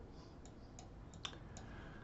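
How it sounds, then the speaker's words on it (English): A few faint, separate clicks from a computer keyboard while the F12 key is pressed. The quiet, sparse taps sit over a low, steady room hiss. "Let's press on F12 on our keyboard"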